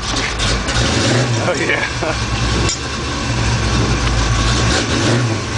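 A car engine idles loudly and revs up close, a continuous heavy mechanical roar with slight rises in pitch, while people briefly talk over it.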